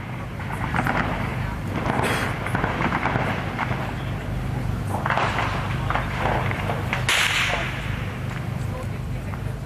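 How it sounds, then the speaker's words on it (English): Explosions and gunfire near a school siege come as sharp, distant cracks and bangs scattered irregularly over a steady background roar. "reports of explosions and gunfire near the school siege"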